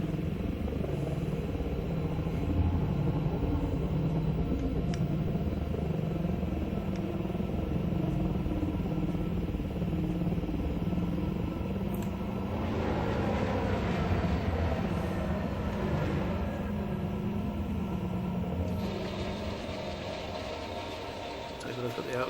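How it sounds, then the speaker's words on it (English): A ship-launched fighter flies in the space game Elite Dangerous, its steady engine hum and whine droning for the whole stretch, with a brighter surge of thrust partway through. "now we're going to do a bit of flight testing just to see how fast and manoeuvrable this fighter is"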